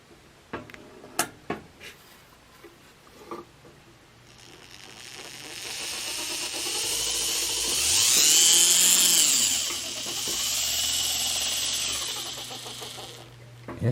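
Roundhouse HO scale boxcab model locomotive with a flywheel running along track, a rising and falling high electric motor whine with gear hum, preceded by a few clicks and taps, close and fairly loud.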